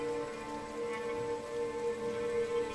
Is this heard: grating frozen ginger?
no